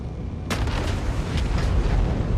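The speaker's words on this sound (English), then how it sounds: "Not sure about all the crackly explosions, though. It sounds like there's something wrong with the ship." Crackly explosions burst from a faulty-sounding spaceship in Star Citizen: a sharp loud crack opens a run of rumbling, popping blasts that continue over a low engine roar.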